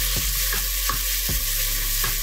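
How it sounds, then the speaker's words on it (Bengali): Onions fry in a pan for prawn malai curry, a loud constant sizzle with a low hum underneath and a handful of sharp spoon scrapes at roughly half-second intervals, close up with no talking. "পেঁয়াজটা নরম হওয়া পর্যন্ত আমি ভাজতে থাকবো"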